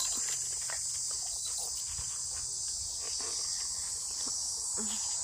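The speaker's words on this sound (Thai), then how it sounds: "แม่งจักจั่นฮะ" Cicadas drone in a steady, loud, high buzz throughout, from a wooded garden plot beside a village in Laos, with faint scattered rustles and taps underneath.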